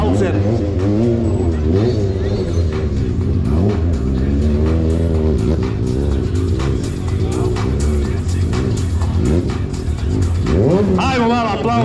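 A motorcycle engine revs loud and continuously through a street stunt show in Živinice, its pitch rising and falling with throttle, while an announcer talks over it throughout.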